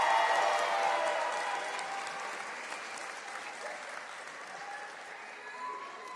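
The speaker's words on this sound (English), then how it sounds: "Please give them a round of applause" A graduation audience at an early college ceremony applauds, a dense burst of clapping that starts strongest and slowly thins and fades, heard from within the hall.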